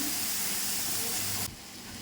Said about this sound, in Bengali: তেলে আমি দিয়ে দেবো পেঁয়াজ বাটা।